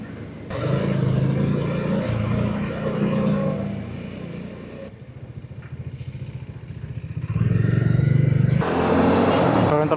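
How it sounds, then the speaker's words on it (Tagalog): Road traffic on C5 Link, with passing cars and motorcycles heard from a rider's position. Engines rumble and swell loudly, easing off in the middle and rising again as vehicles accelerate close by. "Boom, traffic."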